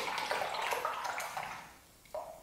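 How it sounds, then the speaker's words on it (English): A paintbrush is swished and rinsed in a water pot while painting pears, giving a steady close watery sloshing that fades, then a short splash near the end. "Once you have washed it out in the water and got it nice and clean"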